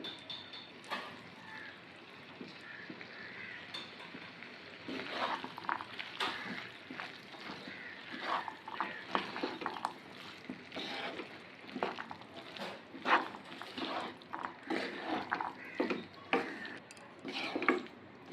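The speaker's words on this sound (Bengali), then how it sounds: "চর্বিটাকে দিয়ে আমি 2-3 মিনিট নাড়াচাড়া করে নিয়েছি।" A spoon stirring mutton fat with potatoes and peas in a pan, a steady run of soft scraping and clinking strokes against the metal, close and fairly quiet, with irregular louder knocks.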